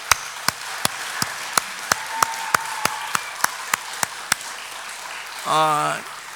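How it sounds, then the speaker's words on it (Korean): A church congregation claps together in a steady, evenly spaced rhythm of sharp single claps, about a dozen in a row, before a brief burst of voice cuts in at the end. "우리 뜨겁게 격려 박수 하십시다"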